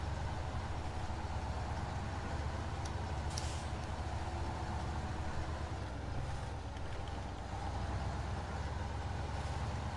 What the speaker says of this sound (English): You can hear the revs.